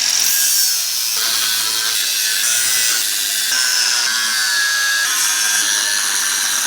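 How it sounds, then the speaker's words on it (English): A power tool grinds and saws through a weld on a Big Tex utility trailer coupler in one steady, loud, continuous cut with slight dips in pitch, close by and without voices. "I like to cut right down the middle here and then work my way and cut the weld"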